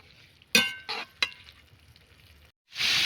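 A spoon stirs a soybean and banana flower curry with spices and salt in a pan, giving a few sharp clinks and scrapes against the metal, then a burst of loud sizzling near the end and no voices.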